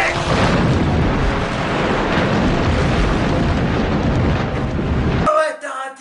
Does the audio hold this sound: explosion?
yes